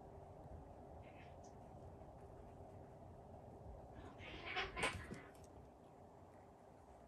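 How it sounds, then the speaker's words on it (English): Domestic cats meowing and squabbling indoors, a brief burst of yowling cries rising for about a second in the middle over a steady background hum, fairly faint and at some distance. "My kitties are arguing over something."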